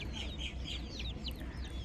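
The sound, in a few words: chickens clucking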